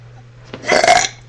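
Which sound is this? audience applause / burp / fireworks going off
burp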